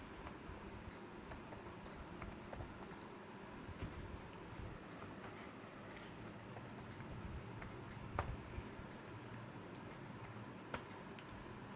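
Typing a C program on a computer keyboard, steady soft key clicks with a few sharper taps, close and continuous under faint room noise, with no talk.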